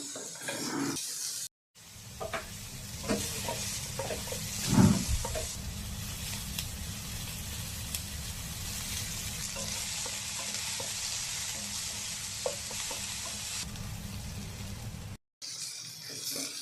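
Tomato, ginger and garlic roast in a little oil in a pan with a steady, close sizzle. Scrapes and stirs are scattered through it, and the sound drops out briefly twice.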